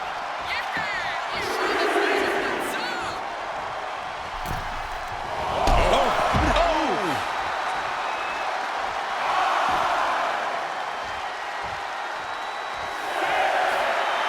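An arena crowd in a WWE wrestling video game cheers and roars in swelling waves, with thuds and impacts from the ring and a commentator talking over it.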